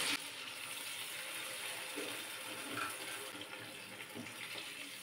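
Water poured into a simmering koi fish curry, a steady close rushing splash that holds evenly for several seconds with no voices.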